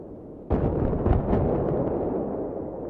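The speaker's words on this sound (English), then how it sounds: "I'm gonna blow up this building" A building is blown up in the Xbox 360 game Battlefield 3 on Sharqi Peninsula: a sudden loud blast, then a long rumbling roar with scattered crackling debris, fading slowly.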